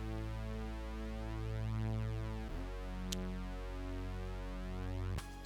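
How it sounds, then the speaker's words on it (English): A sustained mid-range synth bass line in a song mix, playing long held notes that change pitch at about two and a half seconds, with a short bright click near the end. "Got this like mid-frequency bass just to make the whole mix just sound fuller."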